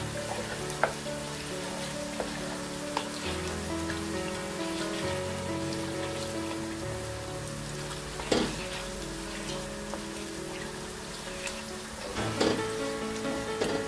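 A chicken stew base with assorted meat fries in a pot, a steady close sizzle and crackle running throughout with occasional stirring scrapes and clinks, no talking.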